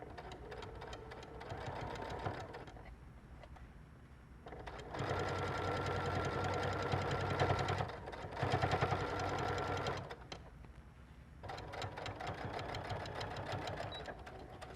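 Sewing machine stitching a button-out lining and setting a sleeve, running in bursts of steady mechanical chatter with brief pauses and a louder, faster stretch midway.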